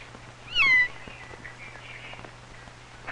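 A single kitten meow, high and wavering, rising then falling over about a third of a second, followed by quiet room tone with a low steady hum.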